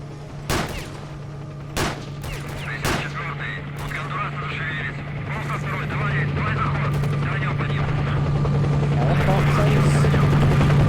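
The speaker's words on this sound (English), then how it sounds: "Is that shooting at me?" Gunfire in the video game S.T.A.L.K.E.R.: Shadow of Chernobyl: several sharp shots in the first few seconds over a steady low mechanical drone that swells toward the end, with voices talking over it.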